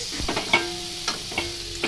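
Neem leaves and eggplant stir-fry in a pan with a soft, steady sizzle, broken by a few light scraping stirs of a spatula, faint and close.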